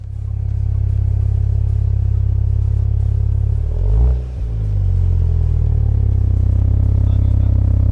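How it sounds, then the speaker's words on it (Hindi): A Jeep Wrangler Rubicon's dual tip exhaust rumbles with a deep steady idle, briefly blipped into a short rev that dips and settles back to a loud close drone. "सबसे पहले आपको एग्जॉस्ट नोट की साउंड सुनवाती हूँ।"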